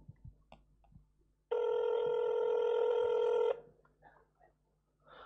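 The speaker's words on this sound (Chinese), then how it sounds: "电话到啦，电话到啦" A telephone bell rings in one steady electronic burst lasting about two seconds, clear and fairly loud against a quiet room with faint background noise before and after.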